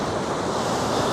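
Steady broadband rush of river water flowing through Alma Arasan gorge near Almaty, Kazakhstan, a continuous close wash with no pauses.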